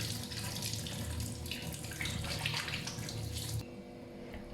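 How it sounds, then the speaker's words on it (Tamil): Tap water runs steadily into a kitchen sink while ginger and vegetables are washed, a close, continuous splashing rush that stops abruptly near the end, leaving a quieter background. "இஞ்சியெல்லாம் நல்லா தேய்ச்சி கழுவுங்க"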